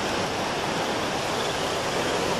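Drainage water pours down a rocky shore below Pebble Beach into the ocean, a continuous loud, broadband rushing wash with no let-up and no talking.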